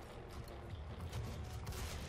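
Gunfire in the video game DOOM crackles in a dense, sustained burst of rapid shots and booms, loud and continuous with no voices over it.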